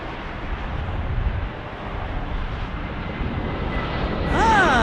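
Airliner at Las Vegas airport in a 20-knot crosswind, a loud steady broadband engine roar that swells toward the end as a rising whine comes in close.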